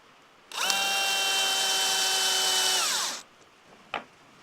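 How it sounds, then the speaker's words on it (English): A power drill drives a screw into a workbench while fitting a caster, one loud steady whine lasting about two and a half seconds that winds down, followed by a single sharp clunk. "It's also screwing down into this workbench too"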